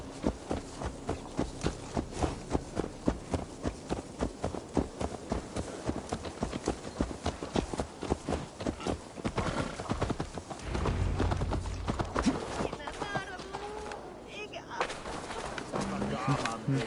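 Horse hooves clip-clop steadily at a walk in the video game Assassin's Creed Valhalla on PS5, near and even, with birds and pigeons in the background and voices talking partway through.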